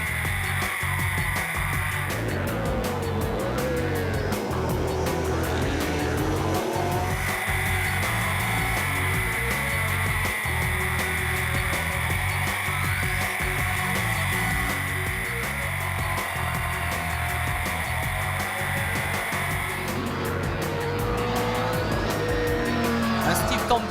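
1980s Group C prototype race car engines roar steadily and loudly at the Spa-Classic 2012 race, revs climbing and falling as cars pass, with a voice talking in French over the din.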